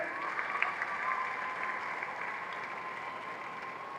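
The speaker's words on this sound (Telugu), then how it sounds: "గట్టిగా చప్పట్లు కొట్టండి." A large audience claps steadily at the closing ceremony of Telangana's CM's Cup 2025 rural sports event, a dense, even wash of applause lasting throughout with no pauses.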